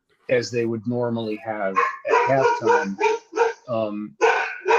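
A pet dog barking in the background of a home setting, a few sharp yips mixed under continuous close male speech about a football game.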